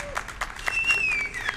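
Crowd applause from an audience at a live speedrun marathon event celebrating a boss kill in Dark Souls, a steady wash of clapping and light cheering lasting the whole moment with no talking.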